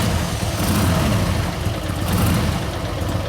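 Harley-Davidson Sportster motorcycle engine running, a steady rough rumble close by with no talk over it.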